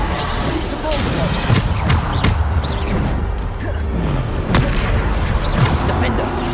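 Hogwarts Legacy spell combat with a Bombarda explosion spell among other spells, giving repeated booming blasts and crashes under constant game noise and music, fairly loud.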